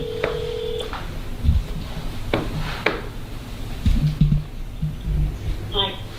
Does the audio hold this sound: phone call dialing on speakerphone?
yes